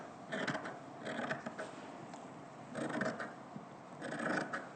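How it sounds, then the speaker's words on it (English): Scissors trim excess fabric during a sewing project in repeated bursts of crunchy snipping, each cluster about a second long with short pauses between them, over a steady low background hiss. "So I'm going to cut it away now. So I'm just going to trim away the excess."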